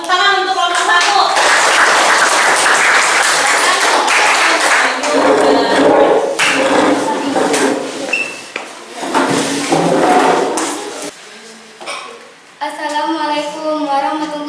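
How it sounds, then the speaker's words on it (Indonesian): Students in an Indonesian Islamic studies classroom clap for the first group of presenters, a brisk burst of applause that swells and fades, with a speaking voice before and after. "tepuk tangan untuk kelompok 1"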